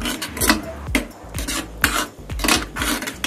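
Mumbai-style pav bhaji is stirred and mashed in a pan, giving repeated rhythmic scraping and rasping strokes of the utensil against metal, loud and close with no talk.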